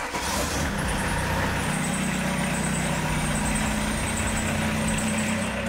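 Citroën C15 engine running at a steady idle, a continuous low rumble heard up close for several seconds with no voices over it.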